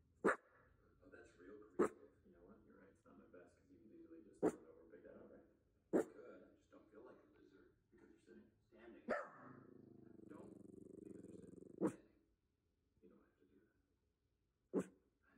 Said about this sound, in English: he's still staring at that recliner and still growling at it